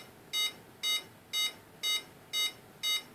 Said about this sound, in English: So it's beeping.